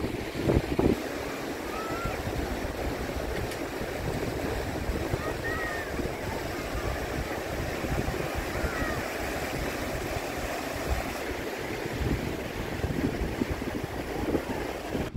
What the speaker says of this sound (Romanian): Bate puțin vântul